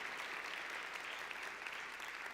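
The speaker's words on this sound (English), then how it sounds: "let's give them a round of applause" An audience claps steadily in a dense, even round of applause, fairly faint and without voices.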